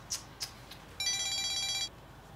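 A telephone rings indoors with one bright electronic burst of about a second, after a few soft clicks and knocks, then falls quiet.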